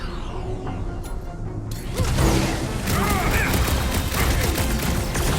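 Gunfire and crashing impacts from a battle in Marvel's Guardians of the Galaxy, a dense, loud barrage that starts suddenly about two seconds in and continues steadily, with little speech over it.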